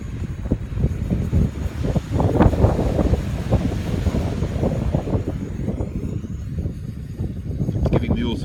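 Strong wind buffets the microphone outdoors at sunset in Perth, producing loud, rumbling low gusts that pulse unevenly throughout.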